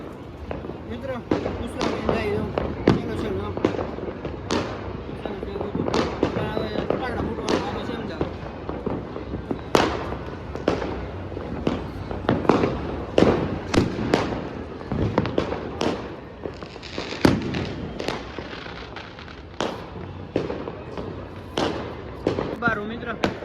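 Firecrackers pop repeatedly through a Makar Sankranti celebration, a long irregular string of sharp bangs and thuds, some near and loud, with people talking in between.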